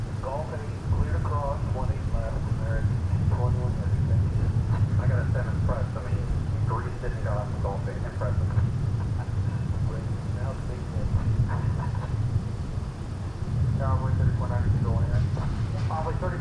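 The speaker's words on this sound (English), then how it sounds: "There is the Dreamliner next from American 21 from London Heathrow" A Boeing 787 Dreamliner, an American flight arriving from London Heathrow at DFW Airport, gives a steady low jet rumble throughout while someone talks over it.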